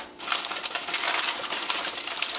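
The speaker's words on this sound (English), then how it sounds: "all we're going to do now is pretty much wrap this up in that tin foil" Heavy duty tin foil crinkles and crackles as it is folded around a rack of BBQ ribs, a close, busy run of sharp rustling that lasts a couple of seconds.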